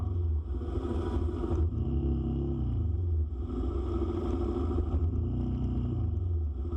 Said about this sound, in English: As always, traffic on EDSA is terrible.